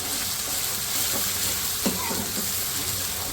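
Finely chopped onion fries in a pan for moong dal, giving a continuous even sizzle with faint crackles and a soft scrape or two, with no voices over it.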